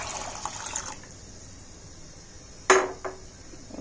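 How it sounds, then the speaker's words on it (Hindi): Water poured into a pan of soaked chickpeas on a kitchen gas stove, a short splashing fill, then a loud clatter of metal and a smaller knock after it. "पानी डाल देना है"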